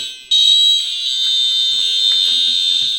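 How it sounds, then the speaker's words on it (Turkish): A loud, piercing electronic buzzer from a homemade doorbell circuit sounds continuously at one high pitch, starting abruptly and holding steady, close to the listener. "Öncelikle bizim büyük buzzer'la test edelim."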